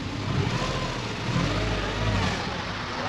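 A Karmann Ghia fitted with a Subaru engine pulls away in first gear, its engine humming at moderate volume and swelling briefly as it accelerates.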